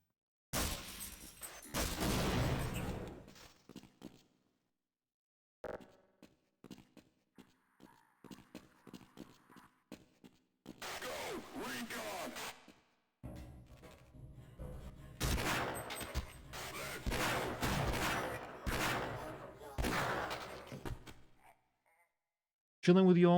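Gunfire in the Half-Life RTX mod video game comes in loud bursts of rapid shots with gaps of near silence between them, and a voice talks at times.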